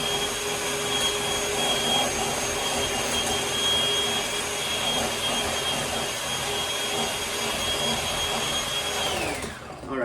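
An electric mixer whisks cake batter with vanilla on high speed, a loud, steady whirring drone close by that winds down slightly at the very end.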